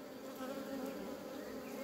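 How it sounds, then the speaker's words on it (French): Dense, steady droning hum of many honeybees swarming around an open hive in a strong colony with two full supers, continuous and close throughout with no voices. "il y a pas mal d'abeilles."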